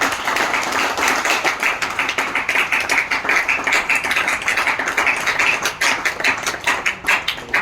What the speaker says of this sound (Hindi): एक बार इनके लिए और इनकी हिम्मत के लिए एक बार जोरदार ताली हम करते हैं